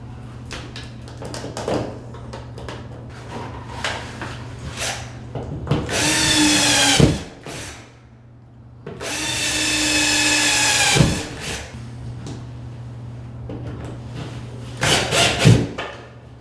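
Power drill driving screws into a closet shelf rod bracket in a walk-in closet, two long close whirring bursts of several seconds each, with short drill blips and handling knocks between them.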